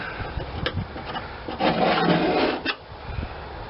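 Abrasive roughing of a weld on an Oldsmobile body panel, a close, gritty scraping that comes in short strokes and then a longer, louder pass before it stops, with no voices.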